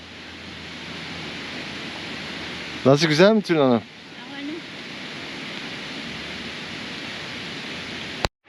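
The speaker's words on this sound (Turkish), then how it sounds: "Her yerden, buralardan gördüğünüz her yerlerden akan şelaleler var." Constant broad rushing of waterfalls flowing nearby in the Lauterbrunnen valley, with a short spoken question partway through and a sharp click near the end.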